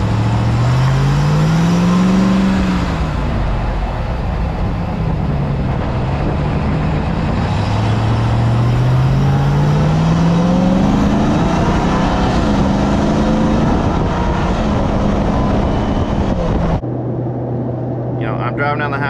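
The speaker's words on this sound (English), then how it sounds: "a lot of people ask if this truck does have Rev Match, which it does. I'm going to give you an example of that." A 2021 Ram TRX pickup's engine revs and drops in repeated swells with rev-matched downshifts, loud and close from inside the cab, with a steady drone underneath before cutting to quieter cruising.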